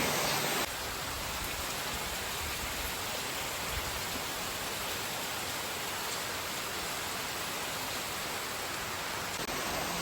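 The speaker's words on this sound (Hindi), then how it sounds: "बारिश जो है बहुत ज़ोर से चालू हो चुकी है" Heavy rain pours in a dense, unbroken hiss throughout, steady and even with no voices.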